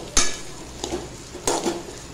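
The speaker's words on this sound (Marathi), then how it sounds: "हे सर्व आपण 1 मिनिट तेलात फ्राय करून घेऊया।" Capsicum, chilli pieces and other vegetables frying in oil in a pan, with a soft steady sizzle broken by three short scraping stirs, close and moderately loud.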